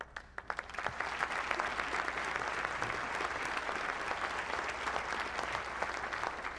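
An audience at a Republican presidential debate breaks into applause after a few scattered early claps, then holds a dense, steady, moderately loud clapping to the end.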